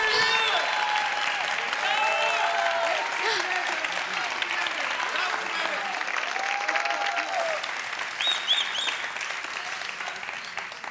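A studio audience on a family quiz show claps in continuous, lively applause, with some voices and short tonal sounds mixed in over the clapping.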